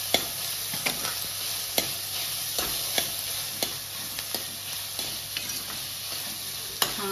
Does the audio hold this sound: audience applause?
no